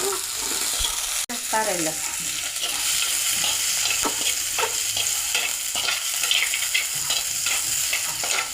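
Green chillies and curry leaves sautéing in a pan for a fish curry, with a continuous crackling sizzle, repeated scraping stirs and a brief spoken word near the start.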